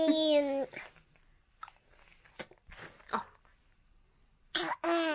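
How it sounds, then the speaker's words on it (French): A small child coughs a few times, faint and scattered, between higher-pitched vocal sounds at the start and end. "Oh, tu tousses, tu mets la main devant la bouche."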